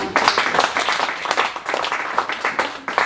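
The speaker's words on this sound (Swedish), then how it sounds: "förtjänar han inte en applåd?" Audience applause at a religious talk, a sustained crowd clapping at moderate loudness for about three seconds, with a faint voice mixed in.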